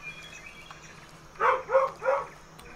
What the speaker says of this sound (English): I'm sorry they hear barking.